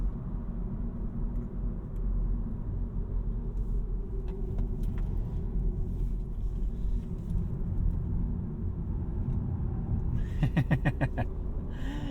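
A 2024 Honda Civic Touring sedan taken hard through a corner, with a steady low engine and road rumble throughout, a brief faint rattle near the end, and no talking.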